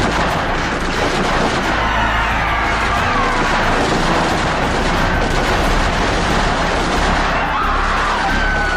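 A loud gunfire sound effect in a school Independence Day drama produces a sustained, dense burst of crackling, booming noise that fills the whole stretch without letting up.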